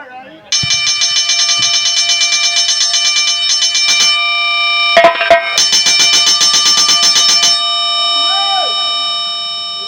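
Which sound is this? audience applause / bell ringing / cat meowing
bell ringing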